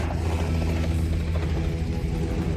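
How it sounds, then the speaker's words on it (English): A helicopter landing, watched from nearby, gives a steady, loud, low engine and rotor rumble that holds constant for the whole stretch with no voices. "The family watches the helicopter landing."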